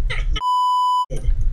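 A loud, steady censor bleep cuts into a stretch of talk, a single sustained pure tone lasting well over half a second, with speech resuming right after.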